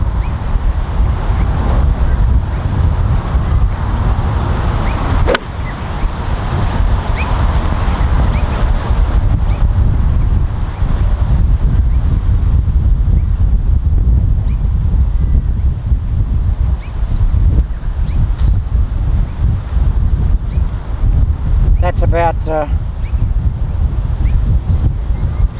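Strong wind of about 30 mph gusts across an open golf course, a loud continuous roar buffeting the microphone throughout with brief fluttering bursts, and no talking.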